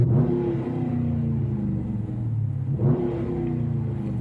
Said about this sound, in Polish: Ten wydech jest bardzo satysfakcjonujący, zwłaszcza przy włączaniu, przy ruszaniu i przy mocnym pałowaniu.